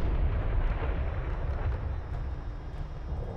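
Artillery fire support explosions in Homeworld: Deserts of Kharak roll as a heavy, continuous low rumble of blasts with no speech.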